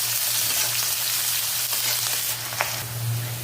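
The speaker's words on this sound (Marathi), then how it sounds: "कांदा टाकायचा आहे, छान परतून घ्यायचं आहे" Onion frying in hot oil in a pan for a mixed vegetable dish makes a loud, steady sizzle with a low hum beneath it and a faint stir or tap near the end. No one speaks.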